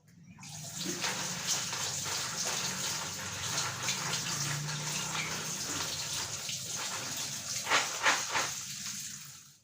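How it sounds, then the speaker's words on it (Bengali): Shelled green peas being washed with water, a close splashing and gushing of running water with uneven swishes and louder bursts near the end. "এখন আমি জল দিয়ে ধুয়ে একটু ঝরান দেব"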